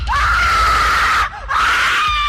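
A loud, piercing scream sound effect from a Marathi horror story, voiced for a knife-holding apparition. Two long, sustained shrieks are broken by a short gap, with no other voices.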